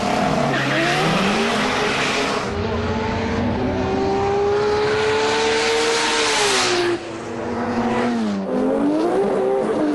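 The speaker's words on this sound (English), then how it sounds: "we can see Reece switching it from 2 to 4-wheel drive for the burnout and launch" A four-wheel-drive race car roars loudly through a burnout and launch, its engine note rising and falling in long revving sweeps over continuous tire squeal and skidding noise, close and sustained throughout.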